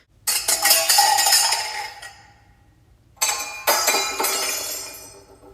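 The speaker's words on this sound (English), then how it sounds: "From the kitchen came the sounds of banging pots and falling jars." Two loud bursts of clattering and shattering in a kitchen, like pots banging and glass jars falling and breaking, each crash followed by a ringing decay, with a short quiet gap between them.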